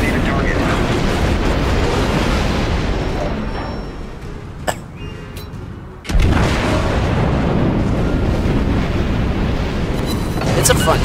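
Naval guns fire in World of Warships, heavy booming salvos rumbling loudly, a lull with a couple of sharp cracks, then another thunderous barrage with voices talking over it.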